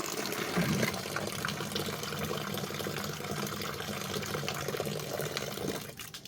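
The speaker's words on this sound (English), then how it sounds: "dump my water out into this bucket." Water from a trim saw's tank is dumped into a bucket, a continuous splashing gush that holds for several seconds before stopping abruptly near the end.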